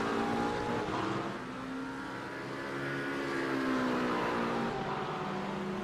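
A Porsche GT race car engine in a racing video game at Indy, roaring close with rising and falling revs as it accelerates and shifts, other cars faint underneath.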